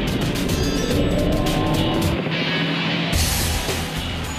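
Race cars in Gran Turismo 5 roar past in a loud, continuous engine drone, with a BMW M3 GT on intermediate tires overtaking a Ferrari in the Nürburgring 24 hours, the pitch shifting as they pass.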